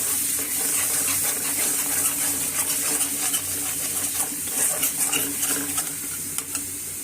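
Dried red chillies fry in oil in a pan for a loitta shutki bharta, making a steady close-up sizzle broken by light stirring clinks and scrapes.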